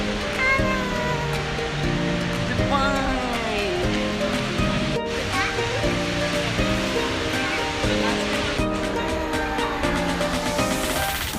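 A large water feature at Dubai Mall splashes and rushes continuously beneath loud background music and distant crowd chatter, with the water noise steady throughout.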